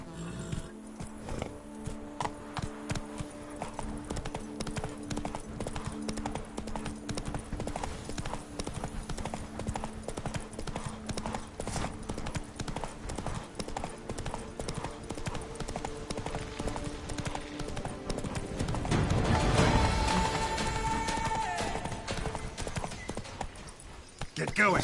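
A horse gallops in The Witcher 3, its hooves clip-clopping in a fast, steady rhythm close by, with game ambience underneath and a louder swell of movement near the end.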